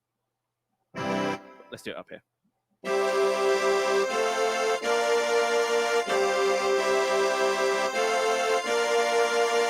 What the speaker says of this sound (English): A French instrument, an accordion.